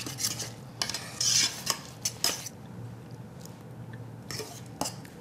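A spoon stirs brandade de morue, the mashed salt cod dish, in a pan as it reheats: close scraping and clinking of utensil against the pan over a faint steady low hum, with irregular louder scrapes.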